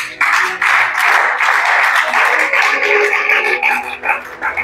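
A church congregation applauds and cheers the Lord during an evening service, with dense, sustained clapping and shouts that hold steady throughout, loud and close.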